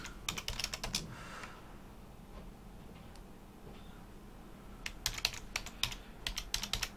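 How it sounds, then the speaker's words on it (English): Rapid bursts of keystrokes on a computer keyboard while editing a WordPress post, clattering in quick runs with a quiet pause in the middle, close and clear with no talking. "Helps to type properly."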